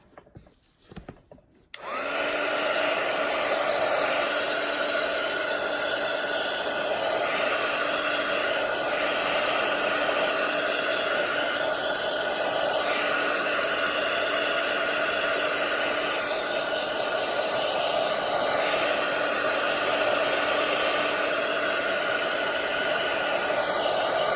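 A hair dryer blows steadily and close by, drying craft paint on a mini vision board background, a continuous loud whooshing drone that runs on alone after a moment of quiet handling.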